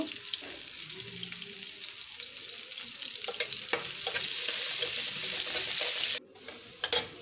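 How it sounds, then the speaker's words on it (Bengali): Chopped onions sizzle steadily in a hot frying pan at home, with repeated scraping and stirring strokes over the continuous crackle, which grows louder partway through and then briefly drops out near the end; no one talks. "আমি এখন চুলাতে পেঁয়াজগুলো দিয়ে দিলাম"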